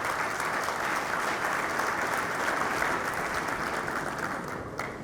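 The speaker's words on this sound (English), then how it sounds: "A round of applause for him." Sustained applause from an audience at a political gathering with the governor and his appointees, loud and steady for about five seconds and fading slightly at the end.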